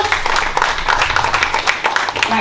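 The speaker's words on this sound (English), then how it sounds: "Can we give him a round of applause?" An audience at an African business ball bursts into loud, dense applause that stays steady for a couple of seconds.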